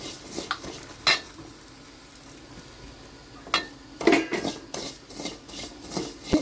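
About a hundred grams of vermicelli frying in ghee in a pan, stirred with a spoon that gives intermittent scrapes and clinks over a faint sizzle, busier in the second half, close with no talking.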